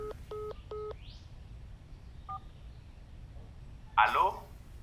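Telephone keypad tones as a number is dialed, three quick beeping presses near the start and a faint single tone later, quiet against a low room hum, followed by a brief voice.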